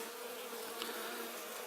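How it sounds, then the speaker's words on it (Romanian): Honeybees buzz in a steady, dense drone at an opened hive, heard close and continuous with no pauses or voices. "o să vedeți să face un gomoloi de albine"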